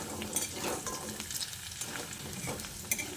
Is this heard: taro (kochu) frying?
yes